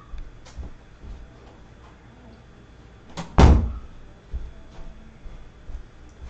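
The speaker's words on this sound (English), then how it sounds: "I'm going to close the door because I can hear my puppies crying" A door indoors is pushed shut once, a single firm thud near the middle, with quiet room noise around it and no talking.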